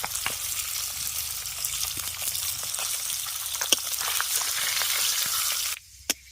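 Spice tempering frying in hot oil for a fish curry, a loud, dense continuous sizzle with crackles and a couple of sharp pops, close up, cutting off abruptly near the end, with no talking.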